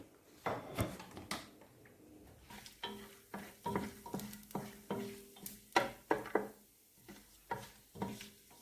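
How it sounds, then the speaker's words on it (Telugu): Whole spices such as cinnamon, shahi jeera, pepper, cloves and bay leaves frying in oil while a spoon stirs and knocks against the pan, a quiet, close series of irregular scrapes and taps over a faint sizzle. "నాలుగు లవంగాలు రెండు బిర్యానీ ఆకులు వేసుకొని అవి కాస్త వేగేటట్లుగా కలుపుకోవాలి"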